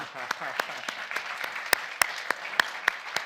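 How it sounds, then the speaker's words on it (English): Audience members at a forum of an energy expert panel clap for the panelists, a short, fairly sparse round of distinct hand claps at moderate distance with no talk over it. "Let's give a round of applause to our colleagues."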